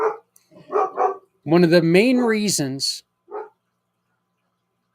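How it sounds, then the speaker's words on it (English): A dog barks indoors in a few short, loud bursts, mixed in with someone talking over it. "She just came downstairs and the damn dog started barking at her."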